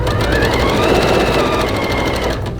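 Sewing machine running steadily while stitching around curved quilt pieces, a loud, close, even mechanical whir with quick repeated needle strokes, slowing slightly at the end.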